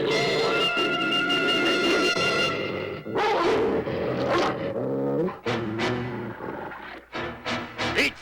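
Several dogs bark and growl in a rough, agitated chorus, loud and close, with a soundtrack from an old cartoon on VHS playing around them.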